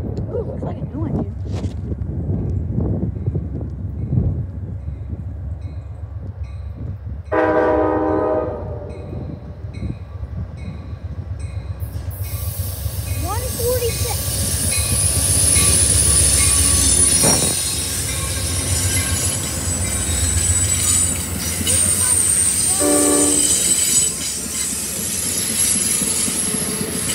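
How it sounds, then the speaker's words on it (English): An Amtrak train rumbles past at Point of Rocks, Maryland with steady rolling noise, wheels squealing and a horn sounding a couple of times, loud and close throughout. "So that's the last train"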